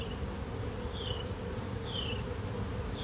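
Steady, dense buzzing from many honeybees close by at an open hive, a continuous hum with no voices over it.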